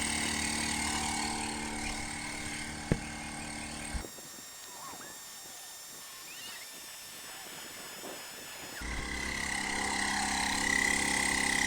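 A battery-powered off-road air compressor drones with a steady mechanical hum and hiss, cutting out briefly in the middle, then running again at a loud, even level.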